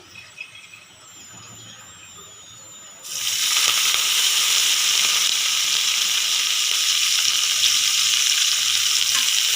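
Oil poured into a pot over a medium flame starts a loud, steady hiss and sizzle right away. The sizzle stays close and constant after a short quiet stretch with faint rattling.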